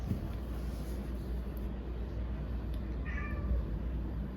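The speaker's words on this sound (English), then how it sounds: "Oh, my cat wants me." A house cat lets out a single short meow, fairly faint beneath a steady background hum.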